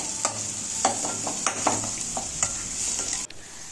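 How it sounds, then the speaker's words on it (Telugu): Chilli powder, turmeric and coriander powder frying in a pan for paneer keema rice, with a steady hiss of sizzling oil and a handful of spoon scrapes and stirs, close up, no talk. "ఒక 10 మినిట్స్ అలా కారంని మొత్తాన్ని ఫ్రై చేసేసుకోవాలి"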